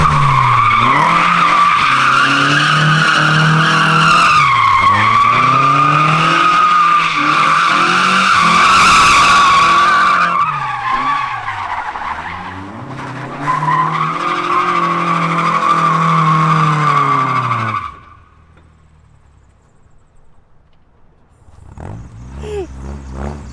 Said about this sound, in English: Those tires are loud.